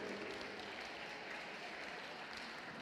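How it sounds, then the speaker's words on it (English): Audience applause at a robot sumo competition, honoring the winners: a steady, fairly faint wash of many hands clapping in a large hall. "Let's give them a round of applause here,"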